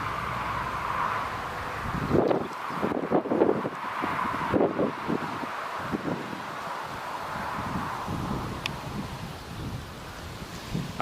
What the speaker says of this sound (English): wind's just picked up a little bit as well in the last few minutes